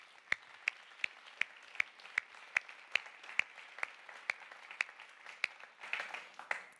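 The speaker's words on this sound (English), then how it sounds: "Let's give them a warm round of applause" Sparse, slow clapping from a small audience at a carbon removal conference panel, roughly a dozen distinct claps spaced evenly over a soft bed of scattered hand noise, moderately close.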